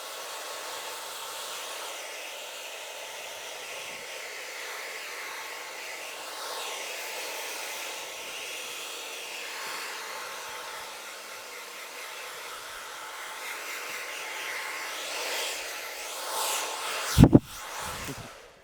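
A hair dryer blows on hair at a styling stage, a steady breathy whoosh lasting many seconds, its airflow shifting slightly as it moves, ending with a few sharp knocks near the end.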